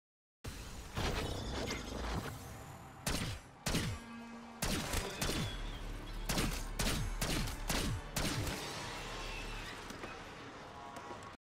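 Rapid bursts of gunfire ring out while shooting vermin in cells in Black Ops 6 Zombies, loud sharp shots in irregular clusters over a constant game background.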